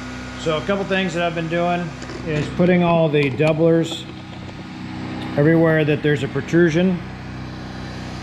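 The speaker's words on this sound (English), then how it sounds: "I apologize for the generator noise in the background." Steady mechanical drone of a portable generator running in the background of an aircraft workshop, a constant low hum that continues beneath someone talking throughout.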